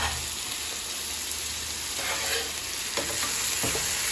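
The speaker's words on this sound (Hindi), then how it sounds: "थोड़ी देर के लिए ढककर भूनेंगे ताकि अच्छे से थोड़ा भून जाए।" Ingredients for rajma roast in a pan and give a steady, close sizzling and crackling that fills the whole clip, with light stirring scrapes and no talk over it.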